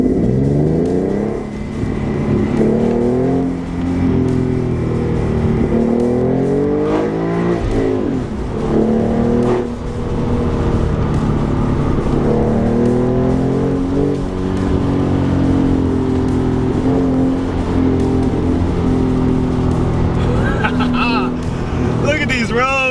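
A V6 Ford Mustang engine revs hard in first gear on a winding road, a loud, continuous roaring drone that rises and falls with throttle, heard from inside the car with someone talking over it.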